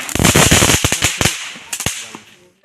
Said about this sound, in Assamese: এজনী পোৱালি দেই ফটকা ফুটাইছে